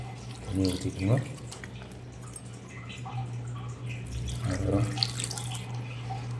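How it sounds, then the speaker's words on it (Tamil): Water poured into a cooking pot while making mutton head gravy, brief splashing bursts near the start and again later over a steady low stove hum, with a person talking in between. "தண்ணி ஊற்றிக்கோங்க."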